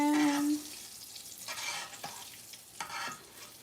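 Shrimp frying in hot grease on a stove, a steady sizzle with brief clatter of stirring, close and fairly loud with no talking.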